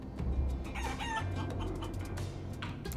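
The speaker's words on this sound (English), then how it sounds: "I guess these are his hench chickens." Cartoonish game chickens from Guacamelee! 2 clucking and crowing in a quick run of squawks over steady background game audio, fairly close and moderately loud.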